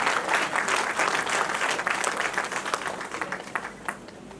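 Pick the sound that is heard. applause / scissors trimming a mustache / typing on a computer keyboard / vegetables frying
applause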